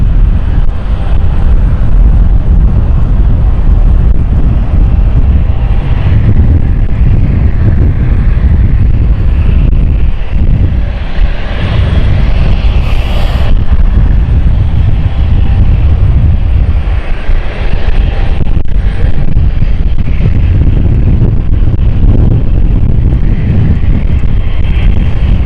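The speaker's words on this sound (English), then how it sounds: "Listen to those engines start up." Engines spooling up on a Luxembourg-bound airliner at London City Airport, heard head-on as a loud, unbroken roar with heavy low rumble and gusty wind buffeting the microphone, sustained the whole time.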